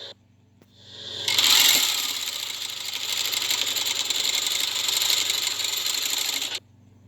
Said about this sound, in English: Pieces are cut. They go to the first sewing machine. Okay, let's get her cranked up.